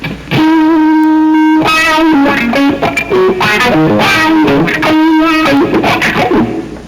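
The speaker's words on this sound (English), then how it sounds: "It's a wah-wah and a volume pedal, depending upon which application you put it to." Electric guitar played through an FX17 wah-wah and volume pedal with a distortion box, sustained notes and bending, sweeping chord phrases, loud and continuous with no talking.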